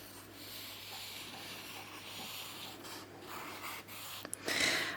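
Pencil sketching an outline of a fawn on paper, a soft continuous scratchy rubbing of graphite strokes heard close and quiet, with a few brief bumps near the end.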